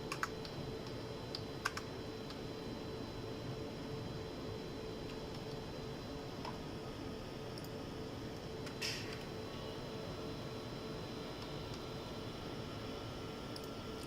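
Computer keyboard keys clicked while test details for a fabric slippage test are entered, a few sparse taps over a steady air-conditioning hum, quiet and close.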